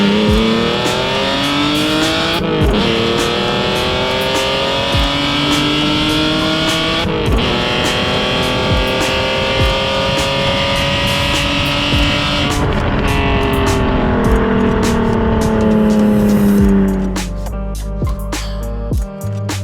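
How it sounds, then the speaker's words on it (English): A BMW E46 330i fitted with an ESS twin-screw supercharger revs hard through rising and falling gear pulls, loud and close, with supercharger whine over the engine note and a sharp drop-off near the end. "It's got an ESS twin screw supercharger on it."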